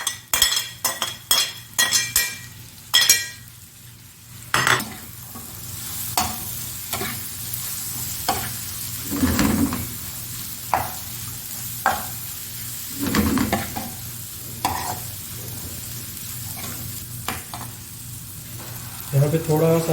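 Chana dal stirred and fried in a pan for a dhaba-style dal fry, with sharp scraping clinks of a spoon against the metal at the start and a steady sizzle underneath, then intermittent stirring scrapes throughout.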